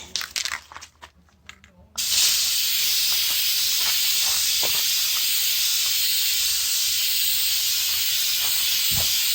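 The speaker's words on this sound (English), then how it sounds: "I'm making sure to spray a little bit extra on the front" After a couple of seconds of clicks and handling, a spray can of Flex Seal rubber coating releases a loud, steady, close hiss that continues unbroken to the end.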